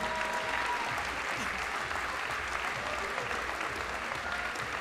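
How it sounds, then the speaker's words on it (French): A tournament audience applauds after a match, with dense, steady clapping that carries on without a break. "ils méritent des applaudissements."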